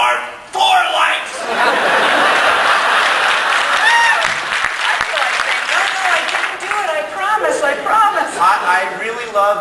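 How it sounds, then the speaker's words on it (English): Loud, sustained applause from a large convention audience at a science fiction convention's opening ceremony, with chuckles and murmured chatter mixed in, fading toward the end as a voice starts talking. "I really love the fact that I am at a place where that joke gets applause"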